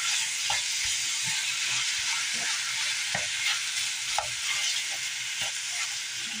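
Chicken seasoned with sage and red paprika browning in a pan, a continuous close sizzle and hiss broken by regular soft scrapes and taps of stirring.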